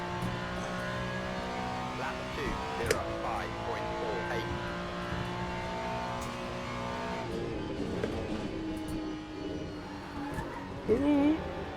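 GT3 race cars howl through a final lap in a racing video game, engines droning steadily with shifting pitch, brief tire squeals and a sharp rise near the end.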